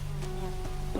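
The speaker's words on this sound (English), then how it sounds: "We got more war crickets" War crickets from the video game Risen give off a steady insect buzz with a droning hum, loud and close throughout a brief moment, with short chittering accents on top.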